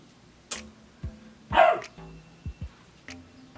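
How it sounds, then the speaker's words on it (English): A dog indoors gives a few short, sharp barks and yips, one louder bark in the middle and smaller ones spaced around it, close by with no talking. "Don't mind my dog."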